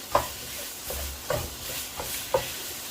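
Vegetables cook in a pan for a Thai red prawn curry, with soft sizzling under several spaced scraping stirs of a utensil, close and moderately quiet.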